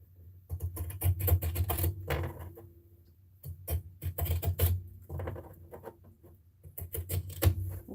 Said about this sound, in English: I'm going to take my pinking shears and I'm going to cut around the 3 seams that I sewed